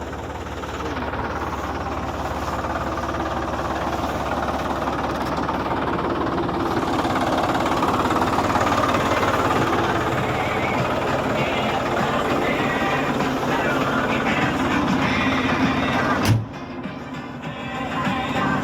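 Solis 50 tractor working a weedy field with an implement, a steady loud engine drone with mechanical rattle throughout, ending in a sharp clunk near the end.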